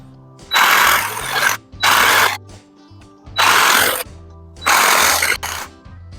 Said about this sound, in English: Again, I'm going to try this on the jigsaw.